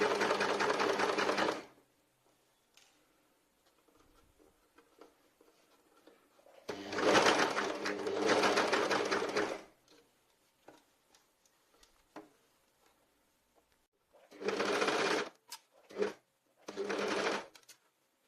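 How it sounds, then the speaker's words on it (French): An overlocker (serger) stitches a T-shirt neckband in fast, buzzing bursts: a longer run at the start, another in the middle, then short stop-start spurts near the end, close and clear with quiet pauses between. "je travaille avec ma surjeteuse"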